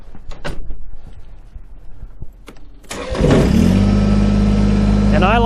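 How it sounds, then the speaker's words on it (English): A Kubota BX23s compact tractor with an LA340 loader cranks and its engine catches about three seconds in, settling into a loud, steady idle close by after a few earlier clicks and knocks. "Now we'll go ahead and start the tractor."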